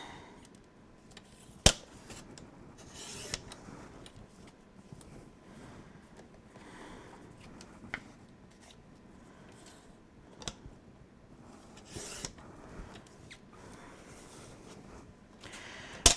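Paper being cut to size for a scrapbook album, with soft scattered snips and crisp clicks of a cutter spread across a quiet room, a few sharper taps standing out.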